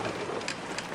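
Steady rain hisses across the whole second in a stormy sea setting from The Journeyman Project 3 game, with a soft low rumble of thunder beneath, dense and constant with no voices.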